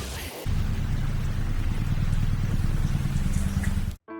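Rain falls in the final scene of the film Curve: a steady, dense hiss of rainfall with a low droning tone underneath, running evenly for about four seconds before cutting off abruptly.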